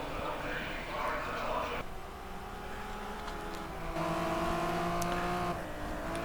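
Race cars battle for position at the NAGP Race of Champions in Anderstorp, steady engine drone rising and shifting pitch as cars run close, with commentary over the top.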